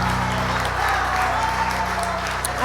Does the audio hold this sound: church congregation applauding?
yes